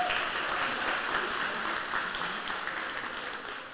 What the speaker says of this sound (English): So if we could give Bulldog TV a quick round of applause for that work.